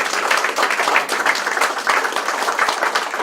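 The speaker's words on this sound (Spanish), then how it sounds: "Estamos midiendo los aplausos" Applause from an audience at a tribute event, a dense, steady wash of many hands clapping throughout, fairly loud and with no talking over it.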